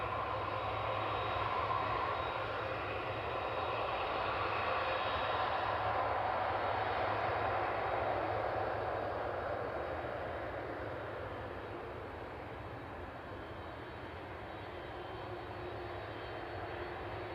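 Boeing 747 jet departing East Midlands Airport at sunset, a loud sustained engine roar that swells, then slowly fades as the aircraft climbs away, with no voices.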